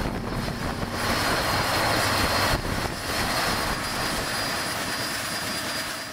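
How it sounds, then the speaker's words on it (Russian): A helicopter engine runs at a landing pad in a remote northern Russian settlement, a loud, steady, close roar filling the whole stretch with no speech. "потом вертолет улетает в Волочанку"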